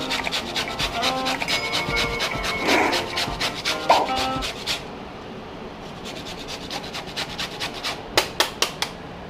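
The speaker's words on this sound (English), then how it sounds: "So I'll go ahead and just grate in a little bit." Frozen garlic and ginger are grated by hand for a spaghetti and meatball sauce, producing close scraping rasps in quick strokes, fading midway, followed by a few light taps near the end.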